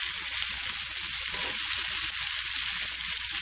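Chicken pasta sauce simmers in a pan with a steady, bright sizzling hiss, close by and unbroken, with no talking.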